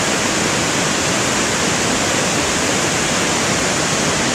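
The Kapuzbaşı waterfall in rural Turkey roars as a loud, unbroken, hissing rush of falling water, steady and close for the whole stretch with no voices.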